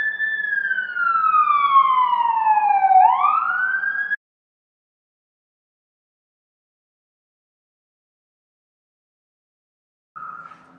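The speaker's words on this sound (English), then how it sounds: "Let's see if we will let those sirens go by. That was really loud." Emergency vehicle siren wailing loudly as it passes down a residential street, a sweeping falling tone for about four seconds that cuts off, then a brief return of the siren near the end; no talk.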